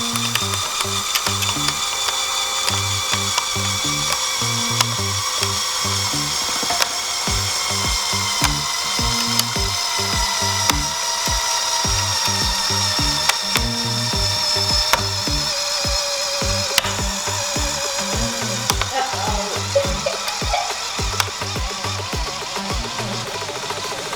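A Lego mechanism winds up to lift a weight, giving off a long run of rapid, regular ratcheting clicks and gear whirring close by, with occasional louder clacks and no voices.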